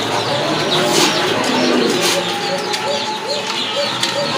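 Pigeons at a seller's loft, including a blackless satin pigeon pair, coo in soft repeated low phrases against a busy background of chirps and faint voices.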